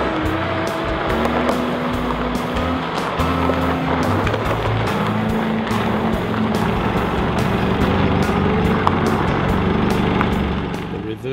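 A 2014 Nissan X-Trail rolls down a slope on hill descent control, its engine and drivetrain a steady close hum with a low tonal drone throughout, with no braking sounds.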